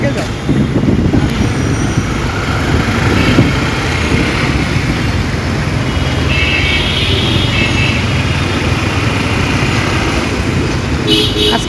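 Loud, continuous roar of a city street traffic jam near a flyover on a windy day, with idling trucks, buses and cars blending into a dense, unbroken rumble.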